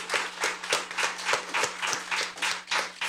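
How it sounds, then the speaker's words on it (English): A small audience at a junior science quiz claps for St. Joseph's Academy, a moderately loud run of distinct, rhythmic handclaps about three per second, with a low hum underneath. "Let's give them a big round of applause to St. Joseph's Academy."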